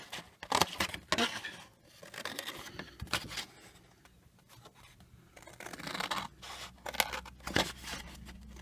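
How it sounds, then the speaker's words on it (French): Mediocre scissors snip a paper label into a wavy shape at a desk, producing a series of crisp, close cutting crunches in irregular bursts, some quick and clustered, others spaced, with quiet pauses between. "Je vais prendre simplement mes ciseaux et se découper"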